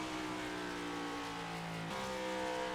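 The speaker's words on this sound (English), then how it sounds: "it's so strange to hear these cars shifting down a stretch" GT3 race cars in the iRacing sim roar along a straightaway at New Hampshire, a continuous loud engine drone that drops pitch sharply at a gear shift near the end.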